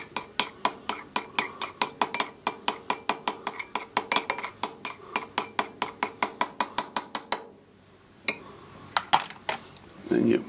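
A fork or whisk rapidly beating eggs with pepper and salt in a bowl, sharp rhythmic clinking strokes repeating for several seconds, then a brief pause and a few scattered knocks.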